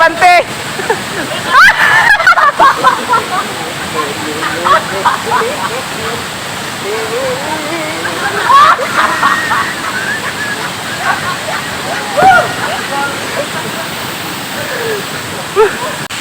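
Inamabakan Falls waterfall pours with a steady, close, broadband roar. Bursts of shouting and splashing from people nearby rise above it.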